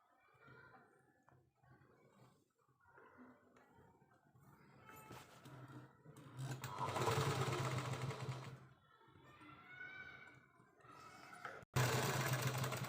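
A sewing machine stitches a lining strip onto khan fabric for a baby frock, running in short bursts with pauses between, then a longer, louder continuous run and a final abrupt restart.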